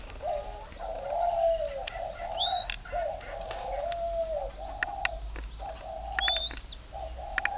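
Spotted doves coo repeatedly in low, rounded phrases that run almost continuously, with brief breaks between calls. Higher chirps from other birds cut in now and then, and there is no talking.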